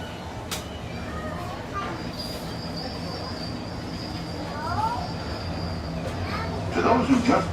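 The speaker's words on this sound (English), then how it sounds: "welcome aboard the Disneyland Railroad." The Disneyland Railroad train rolls along its track with a steady low rumble, faint wheel squeals and a long high tone, building to louder clattering near the end, heard from aboard the ride.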